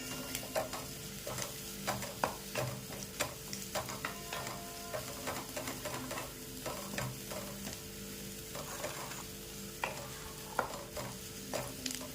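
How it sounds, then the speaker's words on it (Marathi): Sautéed hummingbird tree flower vegetable stirred in a pan with coriander and salt, a steady faint sizzle under soft, repeated spoon scrapes and taps, without talk. "बारीक चिरलेली आणि चवीनुसार मीठ पण टाकून घ्यायचं आहे आणि मिक्स करून घ्यायचं आहे"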